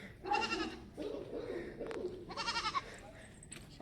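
A goat on a farm bleats twice in drawn-out, wavering cries, fairly close, with quieter rustling and faint farmyard background between calls.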